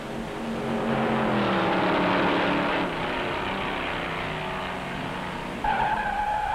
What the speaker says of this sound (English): Don Kibberling in number 60 smashes a guardrail and spins off the high bank first turn